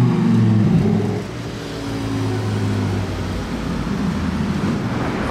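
A Porsche GT4 RS and a Lamborghini Huracán Tecnica drive past on a street in Monaco, their engines booming loudly at first, then easing into a sustained mid-pitched drone as they move away.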